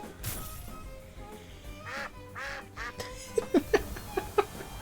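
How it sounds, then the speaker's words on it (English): A duck-like creature in the video game TemTem quacks in a quick run of short, sharp calls near the end, heard over game music and background noise. "it has the sound, the duck quacking"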